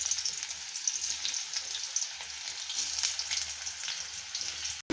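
Three lengthwise-sliced onions fry in two spoons of oil in a kadhai on a gas stove, giving a steady, moderately loud hiss with faint crackles and light stirring, uninterrupted until a sudden cut at the end.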